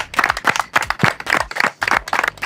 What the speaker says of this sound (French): Oh les applaudissements timides.